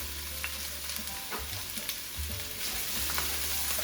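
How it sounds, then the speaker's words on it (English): Peppers and onions fry in a little hot oil in a pan, a steady close sizzle running throughout with faint stirring knocks underneath and no voices. "Got some nice hot, little bit of oil in the pan. We're gonna get our veggies started. A little pepper and onions."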